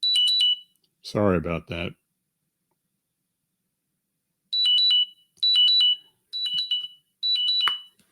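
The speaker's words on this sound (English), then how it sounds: "This is my blood sugar alarm just went off." A blood sugar monitor alarm sounds in clusters of high, rapid electronic beeps, first briefly and then in four repeated bursts, with a man apologizing in between.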